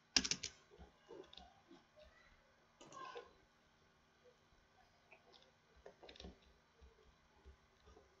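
Soft, irregular tapping on a computer keyboard, a quick flurry of keystrokes at first, then scattered clicks and short bursts with gaps in between, quiet and close.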